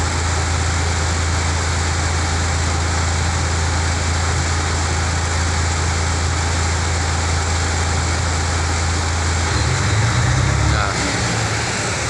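A DAF CF 85 410 6x4 truck with a low-power fault idles with a loud, close, steady diesel drone, then revs up briefly near the end while a voice is heard.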